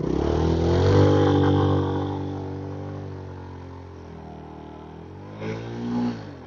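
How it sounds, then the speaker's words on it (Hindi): Traffic passing on a sandy mountain road between Naran and Hunza: a steady, fairly loud engine drone from passing vehicles, with a nearer vehicle swelling briefly toward the end. "ये ट्रैफिक निकल लेने दो।"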